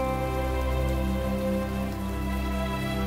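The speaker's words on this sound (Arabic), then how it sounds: "جاء هذا المطر في حينه" Gentle spring rain falling on a river at night, a steady even patter over a continuous soft drone, constant in level without voices.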